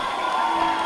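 Spectators at a CFL 15 women's title fight in South Africa cheer as the second round ends, a brief, moderately loud crowd roar with a steady tone running through it.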